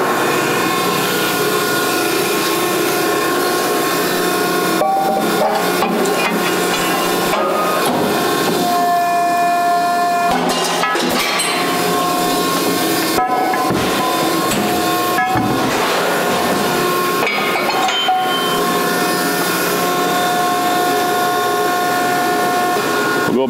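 Scotchman ironworker's automatic measuring positioner driving stock back to a set length, a continuous mechanical whir with tonal motor hum and several short clunks and shifts, loud and close with no voices.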